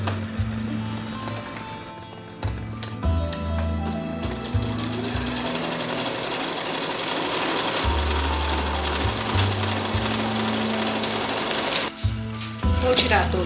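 Sewing machine stitching the seam of a fabric clutch purse, its fast mechanical rattle running in bursts that stop and restart, close and fairly loud throughout.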